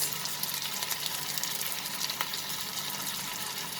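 Dry spices hit hot oil for a prawn and potato curry, giving a steady, dense sizzle that hisses evenly throughout with no talking.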